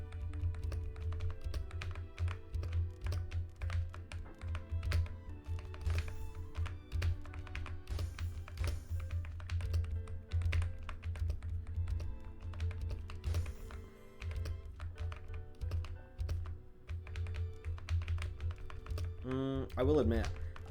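Fast computer keyboard typing during Tetr.io play on a new, lower-quality keyboard, with dense, hard clacks and thumps at a quick uneven pace, close and continuous, under intermittent talk.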